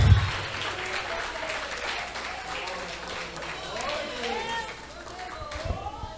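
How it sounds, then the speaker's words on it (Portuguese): Church congregation claps during a sermon, a moderate, steady patter of applause lasting several seconds with voices and chatter mixed in. "Aplauda o nome de Jesus"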